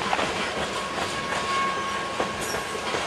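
A BNSF freight train rolls past near Ravenna, a loud, steady rumble of railcars with rhythmic wheel clatter filling the whole span, close by, with a faint high squeal and no voices.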